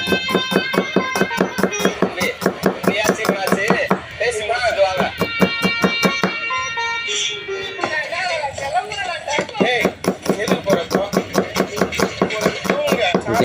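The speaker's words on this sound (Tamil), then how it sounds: "ஓகே, வெங்காயத்தை வெட்டியாச்சு." A knife chops onions on a board in rapid, even, loud knocks, pausing briefly mid-way while a voice talks, then resuming the fast steady rhythm.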